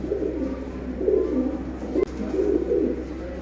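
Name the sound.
pigeons cooing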